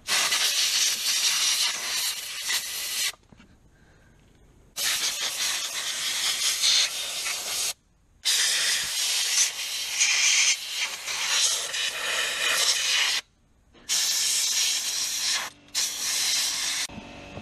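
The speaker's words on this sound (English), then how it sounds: "So compressor's fired up, and now I'm going to spray all that crap out of there" Loud bursts of compressed air from an air compressor hiss and blast in repeated spurts, blowing debris out of a lawn mower, separated by short quiet gaps.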